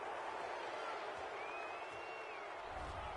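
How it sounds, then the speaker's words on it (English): A home football crowd at a Cardinals–Seahawks game roars and cheers a call in a dense, continuous wall of distant stadium noise with a faint whistle-like tone rising through it. "This home crowd, they're happy with that call."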